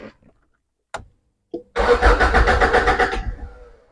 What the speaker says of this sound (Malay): Cuba start tanpa relay mau tak?